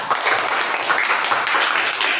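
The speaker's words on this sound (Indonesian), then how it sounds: "Ya, tepuk tangan yang meriah." Hearty applause from a class at a teacher supervision session, a dense steady patter of many hands clapping close by with no talk over it.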